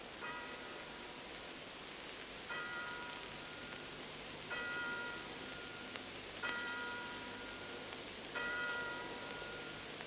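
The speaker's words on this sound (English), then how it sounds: "a village clock announced the hour of midnight" A distant village clock chimes the hour of midnight in a silent forest, five evenly spaced bell strokes ringing out over a soft steady hiss.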